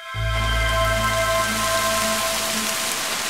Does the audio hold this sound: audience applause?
no